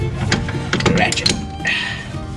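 A ratchet clicks in quick bursts while tightening suspension parts on a 2000 Chevy Impala, close and mechanical, with metallic clanks and voices mixed in.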